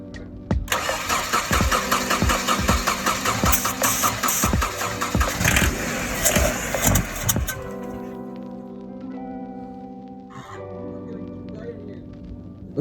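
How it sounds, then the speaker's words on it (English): A project car's engine cranks, catches and roars to life with loud revving and throttle blips, then settles into a steady, lumpy idle up close, with a brief clunk near the end. "The car was firing up. It was turning over and cranking."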